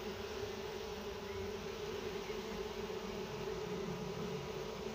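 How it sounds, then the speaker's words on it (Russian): Honeybees swarming around a hive after a caged Ligustica queen has been placed inside, a steady, even buzzing drone that holds close and moderately loud without pause. "Ну, а пчелы вот так вот себя ведут"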